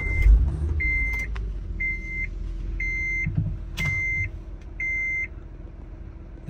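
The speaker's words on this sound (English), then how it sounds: "Let's go ahead and start up the van" A 2014 Honda Odyssey BraunAbility van starts with a short low thump, then idles with a soft rumble while a series of evenly spaced electronic warning beeps chimes over it.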